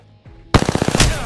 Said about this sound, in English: Got it, shots fired and they're hitting me.